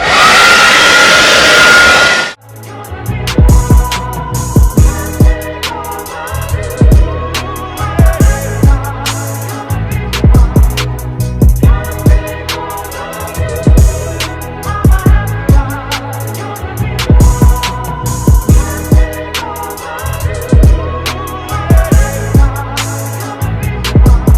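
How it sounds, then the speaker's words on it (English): A hair dryer blows loudly for a couple of seconds, then cuts off abruptly as rhythmic music with drums takes over. "I'm gonna use the hairdryer to make them dry faster"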